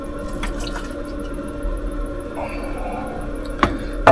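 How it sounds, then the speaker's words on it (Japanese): Hot water being poured out and discarded inside a camper van kitchen, a faint steady trickle with light drips and a couple of small knocks, fairly quiet throughout. "そしてなおかつこのお湯を捨てて"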